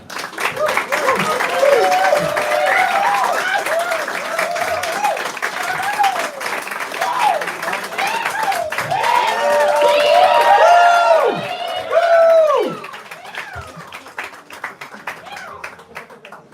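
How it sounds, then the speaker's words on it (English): Crowd at a stout launch event applauding and cheering, sustained clapping mixed with whoops and shouting voices, loud and close, swelling before tapering off near the end. "Can we have a round of applause for Cowboy Lavin, ladies and gentlemen?"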